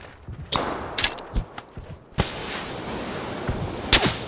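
Gunfire in the battle-royale game PUBG: several sharp, loud shots crack out in an irregular sequence, followed by a sustained hissing burst and a final distant shot, with no talk over them.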